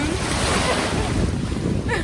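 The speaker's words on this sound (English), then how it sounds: "an ocean wave hit us" Ocean waves crashing and rushing near a boat off Jamaica, a loud continuous wash of surf mixed with heavy wind buffeting on the microphone.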